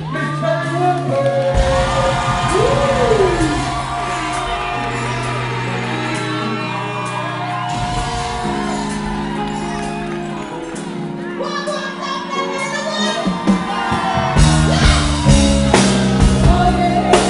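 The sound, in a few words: audience cheering and whooping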